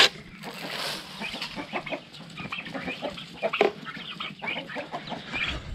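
Chickens and young turkeys cluck and chirp in busy, overlapping calls nearby, with soft peeping and rustling throughout.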